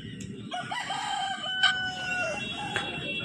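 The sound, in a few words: roosters and chickens at a village market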